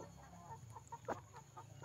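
A large ten-month-old pet rooster near five kilos gives a few soft, faint clucks close by while eating bananas, over a quiet background hum.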